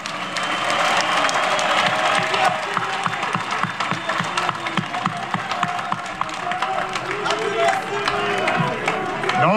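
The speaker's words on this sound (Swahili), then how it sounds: "naomba makofi yazidi ili ayaone afurahi mama yetu" A large audience at a public gathering addressed by Tanzania's Prime Minister during the Kariakoo traders' strike claps continuously. The dense applause holds steady throughout, with scattered cheers mixed in.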